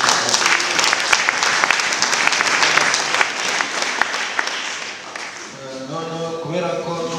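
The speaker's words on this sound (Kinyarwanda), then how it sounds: "umukomere Imana amashyi" A church congregation breaks into loud, dense applause for God that fills the room, then fades after about five seconds as a voice begins speaking over the last scattered claps.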